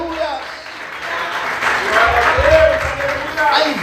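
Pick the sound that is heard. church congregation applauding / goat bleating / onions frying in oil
church congregation applauding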